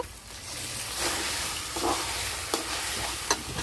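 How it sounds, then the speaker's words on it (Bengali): Spiced marinated meat fries and is stirred in a pot for a quick biryani, giving a continuous loud sizzle with scraping stir strokes and a couple of sharper knocks near the end. "এবার দেব কষে রাখা আলু আর মাংসগুলোকে একসঙ্গে ভালো করে কষে নিতে হবে।"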